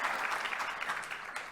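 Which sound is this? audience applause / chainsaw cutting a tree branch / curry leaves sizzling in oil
audience applause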